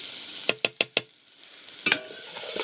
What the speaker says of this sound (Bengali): এপাশে বিট ভাজাটা নেড়ে চেড়ে বেশ সুন্দর করে ভেজে নিচ্ছি।